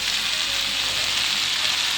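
Mixed vegetables sizzle loudly and evenly in a pan as soy sauce goes in, a dense steady hiss close by with no talking.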